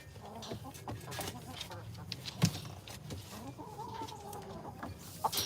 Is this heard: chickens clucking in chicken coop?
yes